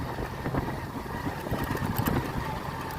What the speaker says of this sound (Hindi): tractor tractor